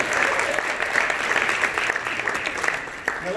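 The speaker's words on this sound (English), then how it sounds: "Everybody give Reno a round of applause." An audience applauds steadily at a live comedy show, a dense, sustained patter of many hands clapping with faint crowd voices mixed in.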